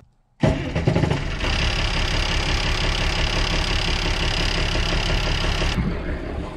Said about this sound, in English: I wanna get that tractor running.